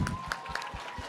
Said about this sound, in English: I want to give a big round of applause again to our panelists